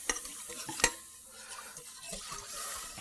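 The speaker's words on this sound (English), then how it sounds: "I'm going to deglaze my pan with red wine" A whisk scrapes around a sizzling pan as red wine goes in to deglaze it for coq au vin, producing a couple of sharp clinks over a soft, continuous hiss, fairly quiet and close, with no voices.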